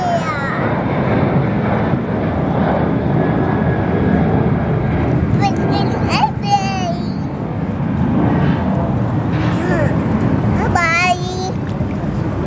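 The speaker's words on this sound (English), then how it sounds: "Where is the airplane?" A steady airplane drone hums overhead while a child and an adult talk over it.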